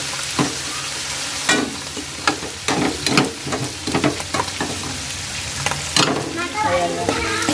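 Shrimp paste (alamang) sizzling and frying in a pan, stirred with clattering strokes of a utensil, close and moderately loud throughout.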